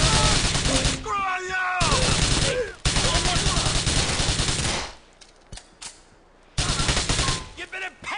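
Automatic gunfire rings out in a Grand Theft Auto 4 shootout, with loud sustained bursts broken by brief pauses and a quieter lull midway, while shouting voices overlap the shots.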